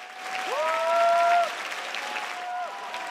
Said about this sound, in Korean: 객석에서 박수와 환호성이 터져나옵니다